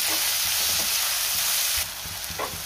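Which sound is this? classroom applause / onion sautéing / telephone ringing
onion sautéing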